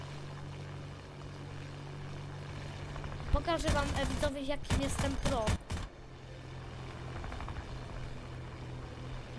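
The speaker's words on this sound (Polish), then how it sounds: "Czekaj, bo lecę samolotem." Low propeller-plane engine drone from the War Thunder video game hums beneath a man chatting in Polish, briefly buried under a louder burst of excited voices in the middle.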